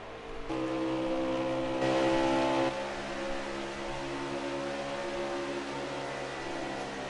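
A race car engine in a racing video game holds a steady, droning tone at constant revs, swelling slightly louder for a couple of seconds before settling back, continuous and unbroken with no one talking.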